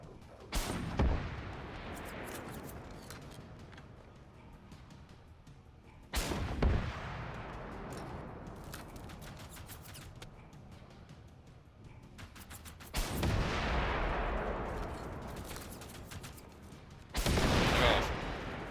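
Heavy booming gunshots ring out in a video game, three or four widely spaced loud blasts, each followed by a long decaying rumble and echo, with quieter background noise between them.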